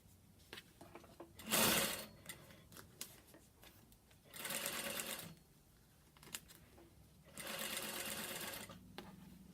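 A sewing machine stitches fabric-covered cotton welt cord in three short bursts separated by quiet gaps, close and moderately loud, with light handling noises between runs.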